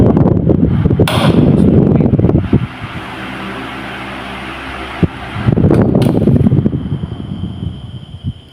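A steady whirring hum runs through the middle, framed at the start and end by louder rushing, rattling bursts of handling noise.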